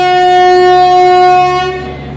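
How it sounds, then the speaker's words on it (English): A passenger train at Valsad station, India, sounds a long, loud, steady horn blast with rich harmonic tones that holds for about two seconds before fading slightly at the end. "the train is given his horn, blown his horn"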